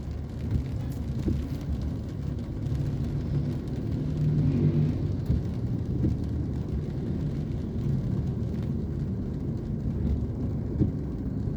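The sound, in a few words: road traffic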